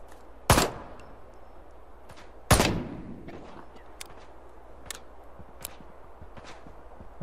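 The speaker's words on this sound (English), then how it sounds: "I still hear firing from somewhere" Two loud, separate gunshots ring out in the video game Ride to Hell: Retribution, each with a short decaying tail. Fainter distant pops and clicks follow them.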